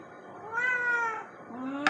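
A hungry cat, missing a limb, gives a drawn-out rising and falling meow, close and fairly soft, followed by a shorter second meow and a light knock at the end.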